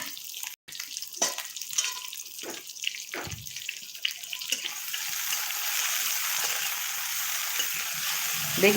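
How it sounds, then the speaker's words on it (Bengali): Flour-coated eggplant slices sizzle in hot oil over high heat, a steady broadband crackle that swells louder in the second half, with a few sharper splashes early on. "ভাজা করব বেগুন"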